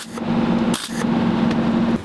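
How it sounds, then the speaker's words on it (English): Short bursts of spot welding on a cracked, broken steel shovel, a steady close buzzing crackle with a brief gap between welds, loud and alone without speech. "I'll do a series of spot welds instead of one long bead to avoid melting through the metal"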